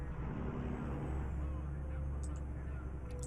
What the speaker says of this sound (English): Oh my god, this truck sounds so darn good.